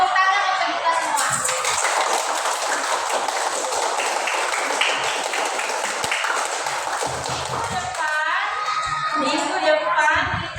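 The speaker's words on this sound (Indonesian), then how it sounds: "Tepuk tangan untuk kita semua." A fifth-grade primary school class claps together, a dense sustained patter of many small hands lasting several seconds, with children's voices and whoops mixed in before it fades.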